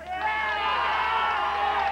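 A crowd in a barn at a live music show, cheering and shouting loudly and steadily with a dense wash of voices throughout, close and continuous.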